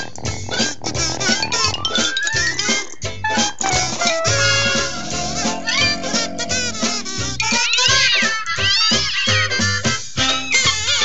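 Loud meows come one after another for about eleven seconds, rising and falling in pitch with several drawn-out cries, in a children's television segment about cats from Elmo's World.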